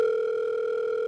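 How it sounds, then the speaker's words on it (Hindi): A phone sounds a steady electronic ringing tone, two sustained pitches held unbroken and fairly loud with no talk over it. "सर आपका फोन आ रहा है।"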